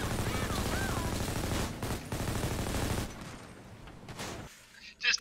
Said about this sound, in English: Dispatch, shots fired.